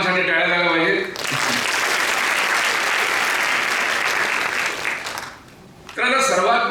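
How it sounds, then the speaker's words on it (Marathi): An audience applauds the students at a CET, NEET and JEE guidance event. Sustained loud clapping from a large crowd runs for about five seconds between stretches of someone speaking over a microphone. "त्यामुळे या सर्व 300 मुलांसाठी टाळ्या झाल्या पाहिजे"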